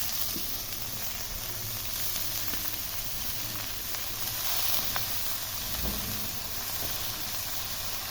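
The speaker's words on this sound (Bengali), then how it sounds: "পেঁয়াজ মরিচ এখন ভাজাটা হয়ে গেছে ভালো একটা কালার চলে আসছে" Onion and chili frying in a pan before radish greens go in, a soft, even sizzle and hiss that holds steady from start to finish with no talking.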